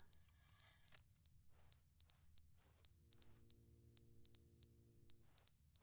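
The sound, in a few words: beeping of a clock with a dead battery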